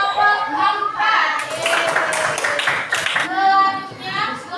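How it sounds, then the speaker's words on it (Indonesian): A classroom of children claps for a student group, a dense burst of hand clapping lasting a couple of seconds, with kids' voices chattering before and after. "tepuk tangan untuk kelompok 4"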